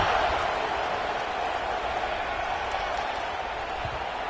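Loud football stadium crowd buzzing after a score, a steady, dense roar of cheering and chatter with some applause that stays even throughout.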